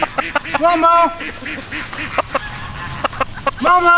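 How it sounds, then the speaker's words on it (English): Ducks approach outdoors with repeated quacks and calls, fairly close and intermittent, while a person calls out over them. "Here comes some ducks."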